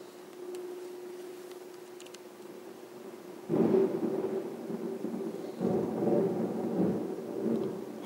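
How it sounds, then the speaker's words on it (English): Heavy rain falls during a summer thunderstorm, a steady hiss at first, then deep rolling thunder breaks in loudly and rumbles on with a second swell, rain continuing beneath. "How heavy it's raining."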